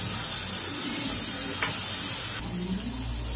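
Potato pieces fry in a pan over a high flame with a steady, dense sizzle and hiss that continues without a break. A faint clink of a utensil comes partway through.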